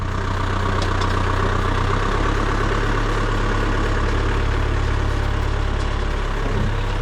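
A diesel digger with a flat tyre idles steadily as it is driven off a low loader, a continuous deep, loud engine rumble throughout with no talk.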